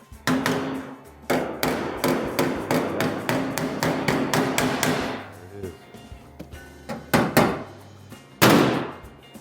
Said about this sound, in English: So I'm gonna hammer this, and it usually comes back.